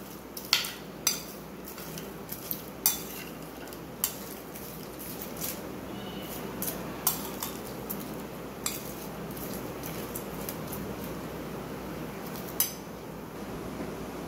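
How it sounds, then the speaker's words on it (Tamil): Potato chips chaat ingredients tossed together in a bowl, with scattered clinks of a utensil against the bowl and soft rustling of chips over a steady room hiss, close and fairly quiet with no voices. "எல்லாத்தையும் நல்லா குயிக்காக ஒரு மிக்ஸ் பண்ணிடலாம்."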